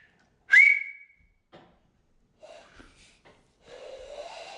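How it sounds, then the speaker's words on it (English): A person whistles a single sharp, rising note, followed by scattered breathy blowing attempts and a softer wavering whistle toward the end, close and intermittent with quiet gaps. "I can whistle 6 different ways."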